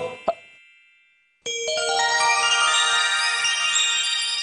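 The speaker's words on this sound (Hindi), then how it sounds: "अरे कौन फोन कर रहा है बार बार" A short plop, a pause, then a phone ringtone starts and rings steadily and loudly with bright, tonal chimes.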